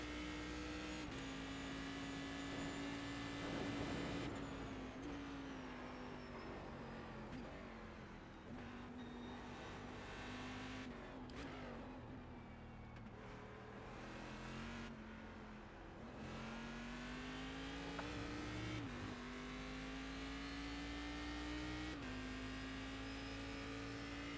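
A Cadillac CTS-V race car engine in the iRacing video game runs at the Nurburgring Nordschleife, droning steadily with pitch rising and falling through gear changes and throttle lifts, loud and continuous for the whole stretch with no talking.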